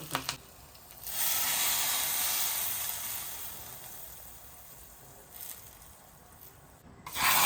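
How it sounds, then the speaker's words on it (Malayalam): Mustard seeds and curry leaves hit hot oil for a tempering, giving a loud, steady hiss and crackle that swells, slowly fades and flares again near the end. "തിളച്ച് വന്നതിന് ശേഷം കടുക്, കറിവേപ്പില ഒക്കെ ചേർത്തിട്ടൊന്ന് വറവും കൂടെ ഇട്ടെടുക്കാം"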